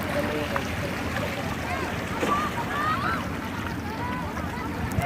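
Sea waves wash along a beach where people are swimming, a steady rushing surf mixed with wind buffeting the microphone and faint voices in the distance.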